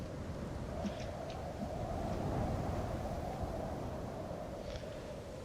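Wind gusts steadily across an outdoor scene in the survival video game The Forest, a continuous faint rushing that holds at an even level with no voices.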